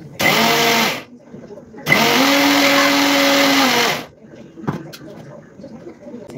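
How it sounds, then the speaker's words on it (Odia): A kitchen mixer grinder whirring through soaked biri (black gram) in two loud bursts, a short one then a longer steady whine, followed by a few faint clinks as it stops. "ବିରି ଭିଜେଇକି ରଖିଥିଲି ତାକୁ ଗ୍ରାଇଣ୍ଡ କରିଦେଲି"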